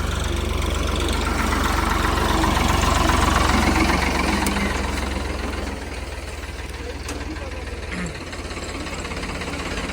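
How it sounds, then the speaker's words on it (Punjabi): A tractor engine chugs steadily up close, a low throbbing drone with a slight drop in loudness partway through, while tractors work to pull a trolley of sugarcane that is stuck. "ਤੀਆ ਟਰੈਕਟਰ ਵੀ ਪੁੱਜ ਗਿਆ ਜੀ ਉਧਰ"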